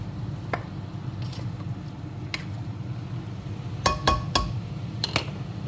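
Onions and mushrooms stirred in a pan for pasta sauce, with scattered light clinks and scrapes of a utensil against the pan over a low steady background hum, a few sharper taps clustered near the end.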